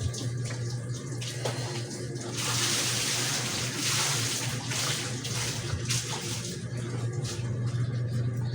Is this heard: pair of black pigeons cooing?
no